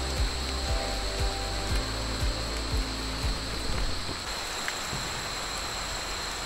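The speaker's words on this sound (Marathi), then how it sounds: "अरे बापरे जोरात पाऊस आला रे." Heavy rain pours down around people sheltering under a tree, a fairly faint, steady hiss with a regular tapping running through its first half.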